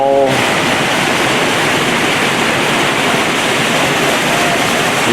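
Steady, loud rush of a waterfall inside an aquarium, continuous broadband roar filling the whole stretch with no pauses or talk.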